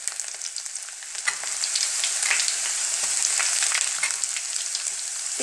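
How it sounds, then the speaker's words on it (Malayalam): Ginger and garlic frying in hot oil over low heat, a continuous close crackling sizzle with faint stirring, steady throughout, no talk. "ഇഞ്ചിയും വെളുത്തുള്ളിയും ഒന്ന് നന്നായിട്ട് നമ്മൾ എണ്ണയിലിട്ടൊന്ന് മൂപ്പിച്ചെടുക്കണം"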